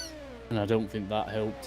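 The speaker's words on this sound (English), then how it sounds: "Yes, that's the cat." A pet cat named Oreo meows twice in short, close, voiced calls over a quiet room tone, with a person speaking just before.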